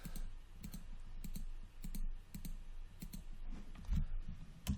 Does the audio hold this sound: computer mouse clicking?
yes